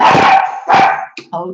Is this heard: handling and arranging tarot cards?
no